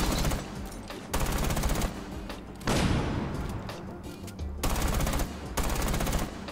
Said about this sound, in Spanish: estoy disparando todo el rato a través de la pared